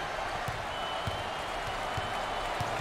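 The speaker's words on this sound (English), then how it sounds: "Standing ovation, you've got to love this reaction by the crowd" A basketball crowd at a 2021 NCAA Tournament first-round game between Dayton and Oklahoma applauding in a standing ovation, a steady wash of clapping and crowd noise in a large arena, heard at a distance and without pause.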